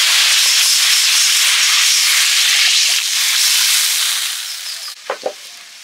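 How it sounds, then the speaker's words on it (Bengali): Water poured into a hot pan of spiced gravy with cumin erupts in a loud, steady broadband hiss and sizzle that fades over several seconds, ending with a few brief metallic clinks. "এবারে জল দিয়ে দিচ্ছি"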